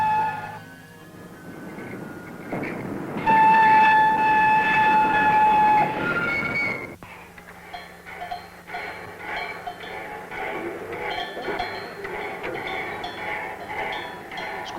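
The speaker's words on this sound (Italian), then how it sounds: "Uno dei grandi letti dei bravi ruminanti è di fermarsi in estasi davanti ai treni in corsa." A train runs past on its rails with a loud rumble and wagon clatter, and a sustained horn or whistle tone sounds partway through before the noise settles into a steadier rolling sound.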